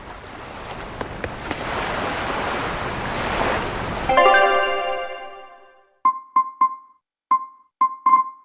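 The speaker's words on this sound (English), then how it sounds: "we're safely on the rolling waves" Rolling ocean waves wash steadily in the game Tales of Berseria, a broad surf hiss for about four seconds before giving way to a quieter scene with short chiming tones.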